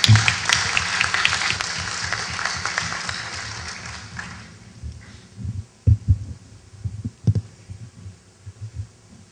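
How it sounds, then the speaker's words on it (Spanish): Applause from an audience at a centenary commemoration event for José María Arguedas, dense broadband clapping that is loud at first, then thins out, leaving scattered low thumps and a few isolated claps. "Un fuerte aplauso"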